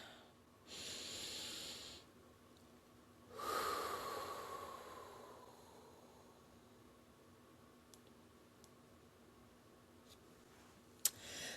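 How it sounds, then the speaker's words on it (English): Two soft, airy breaths during a quiet guided meditation, the first longer, the second a deeper inhale that fades out, followed by near silence and a small click. "Take a breath with me"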